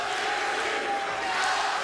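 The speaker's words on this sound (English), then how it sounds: "And you hear the crowd, Algieri." Boxing arena crowd at a professional bout, a steady roar of cheering and shouting filling the hall throughout, fairly loud and continuous, with a commentator's voice faintly mixed in.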